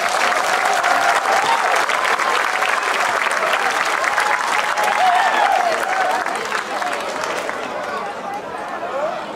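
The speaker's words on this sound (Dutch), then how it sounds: "Graag een hartelijk applaus voor al onze vrijwilligers." A large outdoor crowd applauds volunteers at the opening of a holiday week with a lantern parade, loud sustained clapping mixed with cheering and chatter, fading slightly toward the end.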